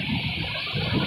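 Ocean waves and wind on a beach shore, a constant broad rushing wash with low rumbling surges swelling near the start and end, loud and close with no talk.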